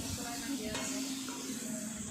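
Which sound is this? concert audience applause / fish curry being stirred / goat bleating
fish curry being stirred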